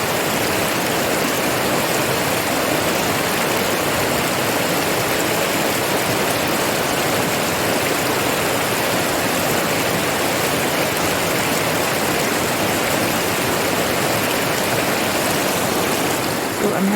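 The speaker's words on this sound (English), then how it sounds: "Listen to the power of the running water and the power of the river" A powerful river rushes through Scottish Highlands woodland, a steady, dense roar of running water that fills the whole stretch without a break.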